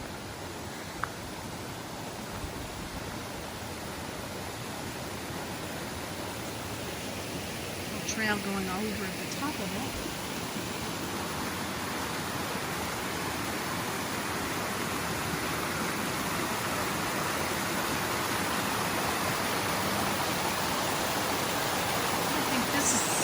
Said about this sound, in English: I always gasp when I hear water.